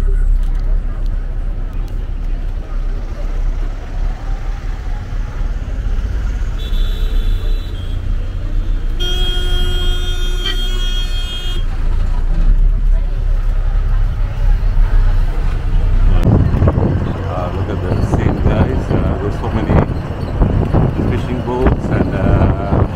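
Road traffic near the Rameswaram bridge in Tamil Nadu, with tourist buses stopped, heard as a steady low vehicle rumble with wind buffeting, a passing engine swelling louder toward the end, and talk over it.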